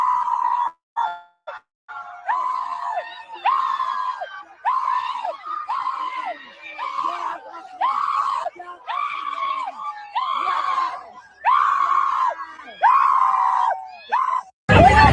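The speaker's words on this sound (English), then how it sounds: "I'm gonna need whoever was screaming like that" Several people in a played clip scream over and over in long, strained, wavering shrieks broken by short gaps, loud and close, with a brief burst of noise at the very end.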